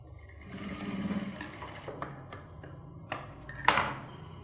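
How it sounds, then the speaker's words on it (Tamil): Sewing machine running in short, uneven bursts while loosely tack-stitching a child's silk skirt, with a soft whirring hum broken by sharp clicks and taps of handling, fairly quiet and close. "இதை நான் சும்மா ரஃப்பாக தையல் போடுறேன்"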